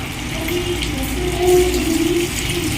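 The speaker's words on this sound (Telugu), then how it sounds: "మూడు గిలాసుల వాటర్ పోస్తున్నాను పర్ఫెక్ట్ అవుతుంది" Water poured from a glass into a pot for bagara rice, a steady, close gushing stream that swells slightly midway and runs without pause for about three seconds.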